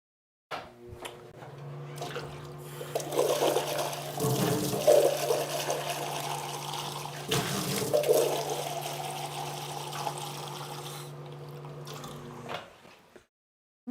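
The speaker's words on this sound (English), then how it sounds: "I need to go and dump out my water and get a fresh one" Dirty water is dumped out and fresh water run into a container, a sustained rushing and splashing stream lasting about twelve seconds with louder gushes partway through, then abruptly stopping.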